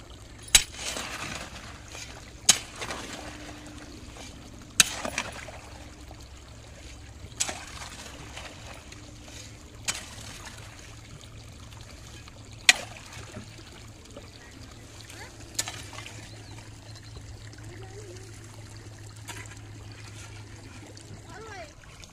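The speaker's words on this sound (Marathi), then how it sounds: "आणि तर पाणी भरायचं काम सुरू आहे" Water trickling and flowing steadily while a farm field is irrigated outdoors, a continuous low wash with sharp periodic knocks or clicks every few seconds over the whole stretch.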